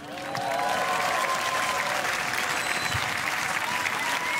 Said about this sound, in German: Euer Applaus. Dankeschön.